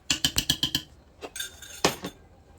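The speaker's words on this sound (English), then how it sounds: "Also 1 sliced garlic. Just mix this all together." Utensil clinks against a pot or bowl while sliced garlic and pickle brine ingredients for bread and butter pickles are stirred together: a quick run of six sharp metallic taps, then a few scattered knocks.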